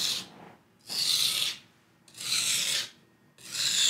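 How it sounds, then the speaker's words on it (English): A kitchen knife is drawn across a sharpening stone in four long, gritty rasping strokes, each followed by a short quiet pause as the blade is lifted and returned, close and clear, with no talking. "You'll notice I'm taking my knife right off of the stone and coming back to the starting position."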